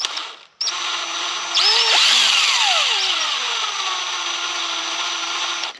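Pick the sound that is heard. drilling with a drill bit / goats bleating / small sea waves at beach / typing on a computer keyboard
drilling with a drill bit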